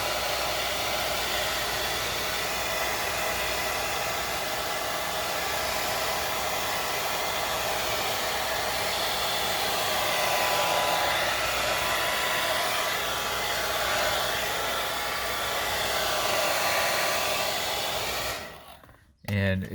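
Hair dryer blowing steadily to dry leather dye on the steering wheel of a Lexus LS 460 F-Sport, a loud continuous whirring roar close by that cuts off abruptly near the end.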